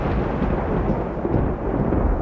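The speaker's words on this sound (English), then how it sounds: "swallowed by the darkness as the thunder rolled" Deep, continuous thunder rolls loud and close without a break, its low rumble filling the whole stretch with no voices over it.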